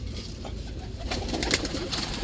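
Pigeons kept by a breeder coo in a low, steady murmur that runs throughout at a moderate, close level, with no voices over it.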